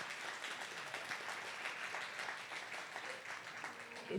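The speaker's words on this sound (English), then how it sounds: "let's give them a round of applause" An audience applauds at an education event on housing stability and student success, a faint, steady patter of clapping that carries on evenly from start to end.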